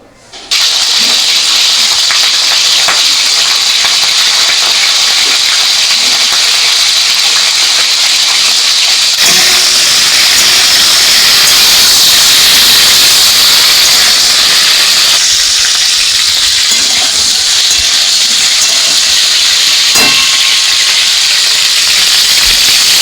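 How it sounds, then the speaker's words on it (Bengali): Cauliflower pieces dropped into hot refined oil in a wok on a gas flame give a loud, steady hissing sizzle that runs without a break, swelling and easing slightly as the frying goes on. "ফুলকপিটা ভাজবো, তার জন্য আমি গ্যাস অন করে কড়াই বসিয়ে দিয়েছি।"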